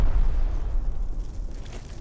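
Incendiary rockets go off in a video game with a deep, rumbling blast that swells loud at first and then rolls off into a low, fading roar.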